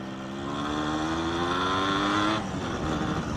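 A Yamaha RX 100 motorcycle, whose clutch is reportedly worn, is revved on a stand: a loud, close two-stroke engine rising steadily in pitch, then dropping off sharply as the throttle is released.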